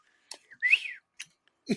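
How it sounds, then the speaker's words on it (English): A person whistles the Hawkeye whistle from the M*A*S*H film, a short rising-and-falling melodic phrase followed by a few brief chirps, close and alone. "the Hawkeye whistle, the Hawkeye movie whistle"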